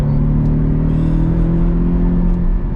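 A Porsche 718 Cayman GTS idles close by with a deep, steady exhaust rumble, strong low harmonic tones and a faint whirring hum above, no voices present.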